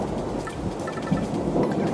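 Rain and thunder from a thunderstorm in Paper Mario: The Thousand-Year Door remaster, set on the moon: a steady wash of rainfall with low rumbling thunder underneath and a slight swell near the middle, with no voices.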